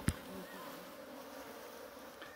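A honeybee swarm hums steadily at an apiary near a fallen hive box, a faint continuous buzz with a brief sharp knock at the start.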